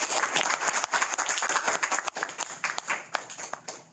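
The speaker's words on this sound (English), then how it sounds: "we can applaud our speaker" An audience applauds a speaker at the close of a lecture, a lively burst of many hands clapping close by with uneven, crackling rhythm that thins slightly toward the end.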